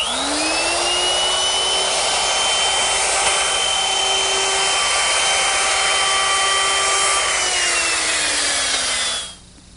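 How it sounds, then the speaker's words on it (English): Router fitted with a quarter-inch rounding-over bit easing the edges of poplar boards, a loud steady high whine with cutting noise held for about nine seconds before spinning down, no talking. "So I've set up my router with a 1/4-inch rounding over bit"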